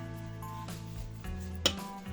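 Soft clinking and scraping of a utensil against a bowl as flour, baking powder and other biscuit dough ingredients are stirred, with one brief sharper clack partway through.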